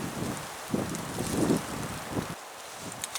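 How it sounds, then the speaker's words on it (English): Strong windstorm wind buffets and roars in gusts during a winter walk, rumbling low and steady throughout, with occasional sharper bursts. "I hear that there's a windstorm out here."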